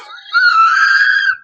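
A cartoon character screams in a Thundercats episode, The Doomgaze (1985): a sustained, loud, high-pitched shriek of about a second that holds steady and then cuts off.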